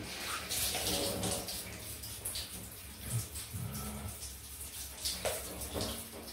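Water splashing and running steadily while shaving soap is rinsed off a face after a straight-razor shave, close and continuous with soft irregular splashes and no talk.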